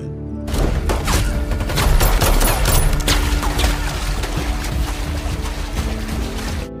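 Rapid bursts of gunfire crackle through a jungle action-film shootout as a fleeing man comes under fire from three attackers. The volleys are loud, dense and sustained over a heavy low rumble.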